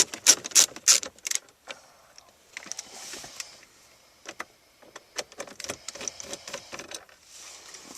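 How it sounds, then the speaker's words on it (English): Phillips screw being backed out of a Honda Accord dash panel around the Bose stereo, giving bursts of quick ratcheting clicks and small mechanical rattles, close and fairly quiet, with brief pauses between turns. "I'm going to move over and remove the screw on the left as well."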